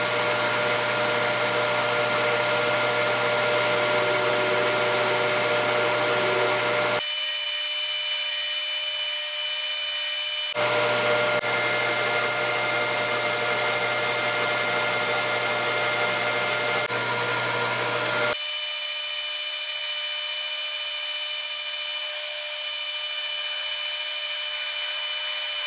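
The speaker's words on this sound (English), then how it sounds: "Is this a high-speed parting blade? And it generates a lot of tool load." Lathe taking a parting cut through metal stock with a high-speed steel parting blade, a steady loud grinding whir in two long passes separated by abrupt stops and near silence.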